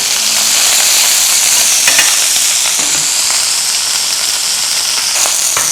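Meat spatters and hisses in hot oil in a frying pan while cooking carbonara, a loud, steady, close sizzle with occasional sharper pops throughout, no talk.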